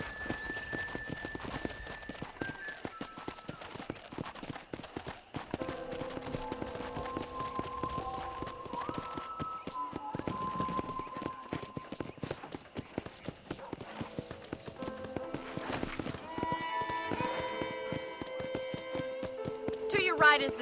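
Rhythmic hoof clip-clop of a horse being ridden on a ranch in Red Dead Redemption, steady and close, with someone talking and musical tones drifting over the hoofbeats.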